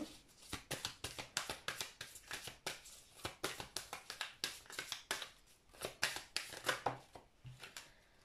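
Oracle cards shuffled by hand in a rapid run of crisp riffling slaps, close and fairly faint, repeating in an even rhythm with no talk.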